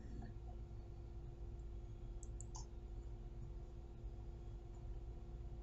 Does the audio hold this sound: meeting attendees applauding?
no